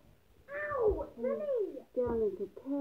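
A cat meows repeatedly at close range, with several drawn-out, rising and falling calls following one another in quick succession over a faint indoor background.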